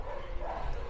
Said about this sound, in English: as you can hear, that we do have dogs.